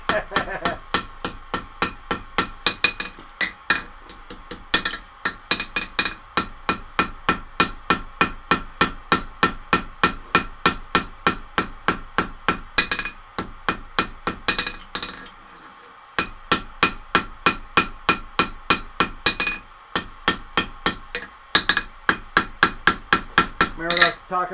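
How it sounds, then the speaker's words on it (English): A blacksmith's hammer with lightly filed-down corners strikes hot metal during forging, ringing out in a fast, steady run of loud blows across the whole stretch, with only brief pauses between bursts. "This is old Mason's hammer"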